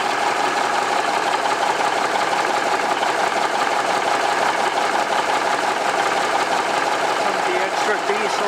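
A Cummins Big Cam diesel engine idles steadily just after starting, fresh from an injector swap, with a continuous dense mechanical rumble and faint knock running evenly throughout at close range.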